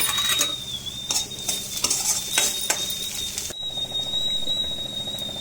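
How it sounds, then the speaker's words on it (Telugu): Onions and green chillies frying in oil with cumin and mustard seeds, a steady close sizzle with scraping stirs and utensil clinks throughout, no voices. "జీలకర్ర ఆవాలు అయినాక ఉల్లిపాయలు, పచ్చిమిరకాయలు వేసాను"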